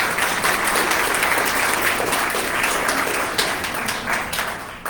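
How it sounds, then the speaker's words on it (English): A large crowd applauds continuously at a school board candidates forum, a dense even wash of clapping that carries on without a break and without any talking. "Please applause."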